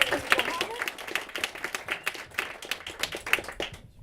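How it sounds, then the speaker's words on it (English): An audience claps for Tyrell Muhammad of the Correctional Association at a panel event at NeueHouse, a dense run of quick, overlapping handclaps sustained throughout at moderate level, with faint voices underneath. "Let's clap it up for Mr. Muhammad."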